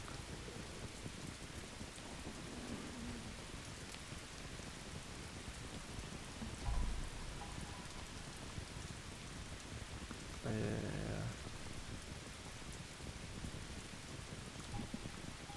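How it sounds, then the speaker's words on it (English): Rain and thunder in the video game Polylithic, a steady soft patter of rain throughout with a couple of brief low rumbles of thunder, quiet overall. "And it starts raining."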